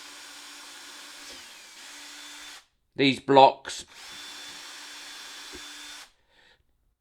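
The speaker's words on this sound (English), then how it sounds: "now I'm going to counter drill" A power drill counter-drills holes in wooden blocks before thick screws go in, giving a few short, loud whirring bursts of drilling that rise and stop between pauses, with steady background hum before and after.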